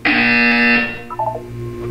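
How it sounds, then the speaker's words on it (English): A loud, harsh electronic buzzer in the video game Portal 2 blares for about a second, then cuts off into faint tones and ambient hum. "You will hear a buzzer."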